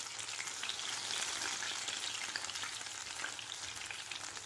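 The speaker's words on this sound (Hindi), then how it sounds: "थोड़ी देर के लिए इसे फ्राई करने रख देते हैं, डिस्टर्ब ना करें।" Minced meat kebabs fry in oil over a low flame, giving a soft, even, continuous sizzle with faint crackles, steady and fairly quiet, with no voices.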